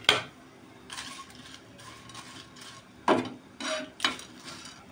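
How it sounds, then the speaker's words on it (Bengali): Biryani spices dry-roasting on a dry tawa, heard as faint, quiet scraping and rattling in short bursts with brief louder knocks, no talking. "তো এবার আমি শুকনো তাওয়াতে এগুলো সব ভেজে নেব।"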